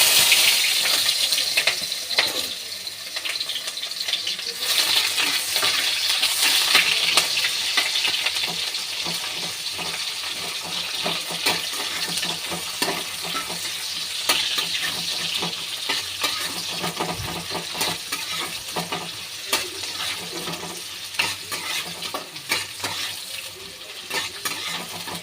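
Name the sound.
raw onion frying in a kadai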